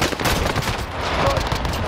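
Dense, sustained gunfire from the Call of Duty Vanguard or Warzone game, rapid overlapping automatic bursts at close range, loud and continuous throughout with no talk.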